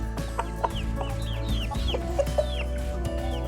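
Chickens cluck softly and repeatedly nearby, with short overlapping calls over a low steady hum.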